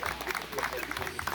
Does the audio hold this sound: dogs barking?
no